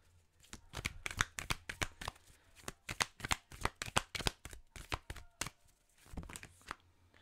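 Tarot cards shuffled by hand for an advice card in a reading, a quick run of crisp, close riffling bursts with brief pauses between them and no voices.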